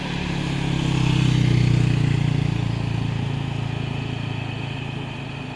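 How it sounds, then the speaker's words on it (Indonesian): A motorcycle engine revs loud and close as it tries to overtake on an uphill road, swelling to a peak and then easing to a steady drone, with a heavier engine rumbling underneath. "Ya, sepeda motor mencoba menyalip."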